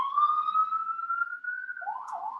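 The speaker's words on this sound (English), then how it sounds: "By the way, if you hear siren going on outside," A police siren outside at a New York City intersection wails in a long rising and falling sweep, moderately loud and somewhat distant, with no talking over it.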